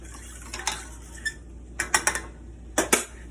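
Metal utensil scrapes and clinks against a pot while beef stroganoff sauce with flour is stirred, giving irregular clusters of sharp, close taps in a quiet kitchen.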